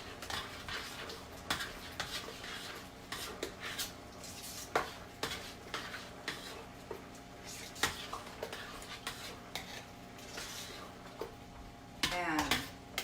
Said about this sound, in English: So now I'm going to stir that up.